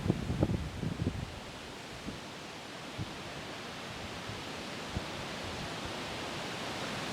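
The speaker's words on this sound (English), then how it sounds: "It is so freaking windy right now." Strong wind behind a cold front in North Dakota roars steadily in a dense hiss, with a few gusty buffets and rustling bumps early on, then a constant rush.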